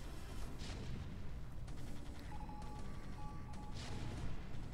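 Goliaths and siege tanks fire in StarCraft: Brood War, a steady stream of muffled booms and explosion thuds from a busy battle, with occasional sharper bursts and a faint tonal blip.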